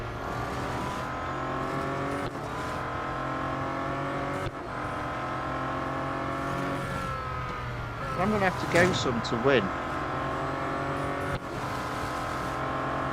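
Engine of a heavy Bentley race car in the Real Racing 3 video game, a sustained roar that shifts pitch through gear changes, with a brief squeal near the end and someone talking over it.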